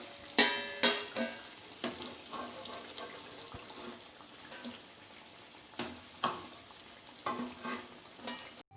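Onion bajji made with gram flour batter sizzle and bubble in hot oil, with a soft continuous fry under several sharp splashing bursts as pieces are turned, close by and with no talking.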